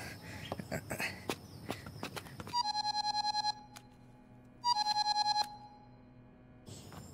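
An electronic phone ringtone plays in two repeated bursts of rapid beeping tones after a stretch of talk and footsteps, fairly loud and close in a comedy scene.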